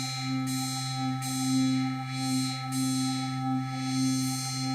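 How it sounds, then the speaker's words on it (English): A wobble bass patch built in the Massive synth plays on its own, a sustained buzzy tone whose brightness pulses in a steady rhythmic wobble over several seconds. "And what you're hearing is a wobble bass."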